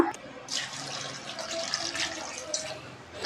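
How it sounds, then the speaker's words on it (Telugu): About two glasses of water are poured into a pot of lentils for boiling, a close, continuous splashing and gurgling stream that runs through most of the moment. "ఇందులో తగినన్ని వాటర్ పోసుకొని ఒక 2 గ్లాసెస్ వరకు వాటర్ పోసుకుని దీన్ని ఉడకపెట్టుకోవాలన్నమాట"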